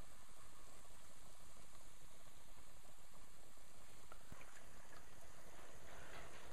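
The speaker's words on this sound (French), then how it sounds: "C'est vraiment quelque chose qui cuit rapidement, c'est pas fait pour traîner dans l'huile pendant." Carnival beignets fry in hot oil with a constant, even sizzling hiss, close and steady throughout with no talking.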